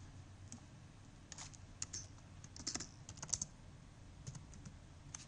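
Code being retyped on a computer keyboard comes as quiet, irregular bursts of keystrokes and clicks in a near-silent room, some short quick runs and some single taps.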